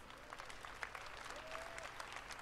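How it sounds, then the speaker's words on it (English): Steady applause from a crowd at the EA E3 2018 press conference, continuous clapping throughout with a light murmur underneath. "Let's give them all a round of applause"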